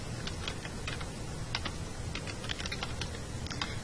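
Quick, light keystrokes tap out a username on a computer keyboard, a close, quiet run of irregular clicks with no voices.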